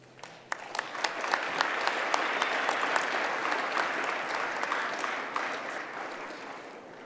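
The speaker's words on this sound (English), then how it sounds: "And I really just want you to give a round of applause for the" A crowd at a launch event for technologies for people with disabilities applauds the innovators, steady dense clapping that swells after the first second and holds loud and even throughout.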